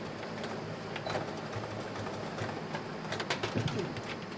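A sewing machine runs a straight stitch along the inner fold of a pioneer dress. Its steady mechanical whirring carries on throughout, close and fairly loud, with a few brief clicks.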